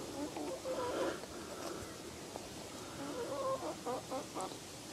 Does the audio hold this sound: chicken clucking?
yes